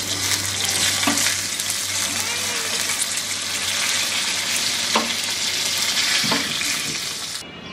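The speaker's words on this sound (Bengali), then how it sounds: "আরো মিনিট 3 ওই পাশটা ভেজে দেখি কি অবস্থা" Rohu fish pieces fry in hot oil with a steady, loud sizzle and crackle that runs throughout, broken by a few sharp clinks of a utensil turning the fish.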